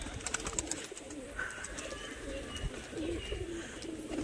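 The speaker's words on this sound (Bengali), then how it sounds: "তো আমার ঝুটি বালিগুলো সব উপরেই ডাকাডাকি করছে, দেখুন" Crested pigeons coo and call continuously, fairly close, over a steady background wash on a rainy day, with no one speaking.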